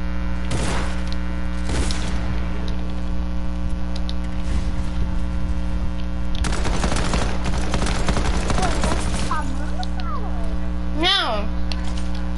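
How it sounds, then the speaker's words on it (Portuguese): Bursts of rifle gunfire from a video game, several sharp cracks and rapid clusters spread across the span, loud and close, over a steady electronic hum with a few chirping game effects near the end. "Só atirando direto, só com rifle."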